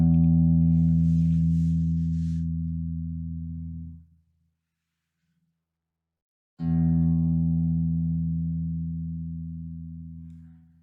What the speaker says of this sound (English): Let me take this from the guitar instead.